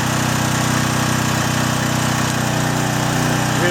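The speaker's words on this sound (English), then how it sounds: "Now you'll hear the engine load down just a little bit." A small engine of a John Deere/Briggs and Stratton portable generator drones loudly and steadily, its pitch dipping slightly toward the end as it labors under load on its high setting.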